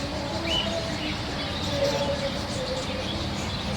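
Scattered bird chirps and calls ring out over a steady outdoor hum, with a few brief tweets standing out near the middle.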